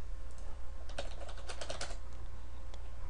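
Typing on a computer keyboard, a quick burst of close, crisp key taps followed by a short pause and one more tap over a steady low hum.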